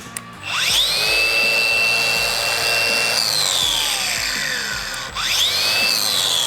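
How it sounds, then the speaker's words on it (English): Hercules cordless angle grinder, a budget Harbor Freight tool, runs loud and close for several seconds, with a high motor whine that winds down partway through and then spins back up. "It's coming in at 80 bucks for a cordless angle grinder."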